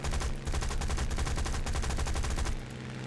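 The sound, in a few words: aircraft gunfire in War Thunder video game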